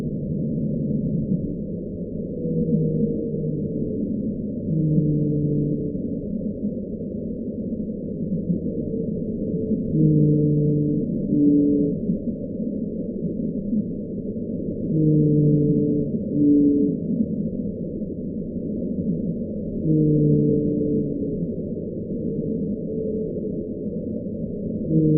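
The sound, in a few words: blue whale vocalizations, sped up tenfold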